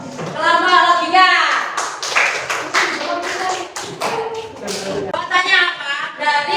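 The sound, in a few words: students clapping for the logic group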